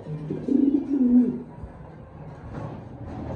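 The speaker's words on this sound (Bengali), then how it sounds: "কবুতরের নরের কি ডাক দর্শক" A male pigeon coos in a low, rolling call with a few repeated throaty pulses, close and clear, followed by quieter background after the call.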